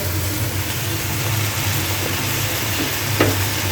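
Steady, loud sizzling of cooked meheri reheating in a pan, a continuous frying hiss with a low hum underneath and one brief scrape near the end.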